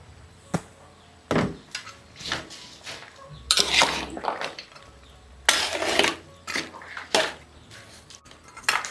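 Salted mustard greens being added to a pot of bone soup, heard as scattered clinks and clatters of utensils against the pot with brief splashy bursts, close and fairly quiet, without speech.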